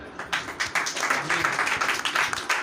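An audience at a Sunday message gathering claps in a burst of applause, fairly close and moderately loud, with individual claps audible in an uneven, sustained patter.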